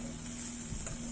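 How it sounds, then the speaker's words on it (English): Bean sprouts and tofu being stirred in a pan, a faint, steady sizzle with soft scraping and clinking of the utensil against the pan. "Now we're going to stir it and make sure none of the powders burn"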